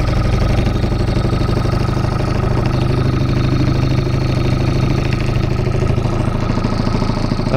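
An HDX 2.6 outboard boat motor idles on the water, a loud, steady mid-pitched putter that runs unbroken and alone the whole time.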